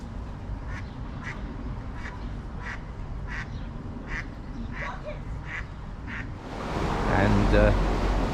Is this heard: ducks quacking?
yes